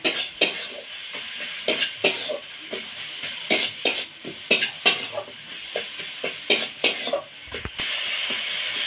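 Grated ginger and garlic fry with onion and tomato in a pan, a steady sizzle under rhythmic stirring strokes and clinks of a spoon against metal, ending in a louder, sustained hiss.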